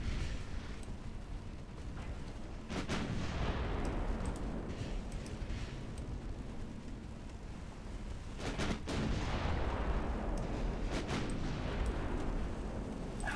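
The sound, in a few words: 11-inch naval guns firing in a warship video game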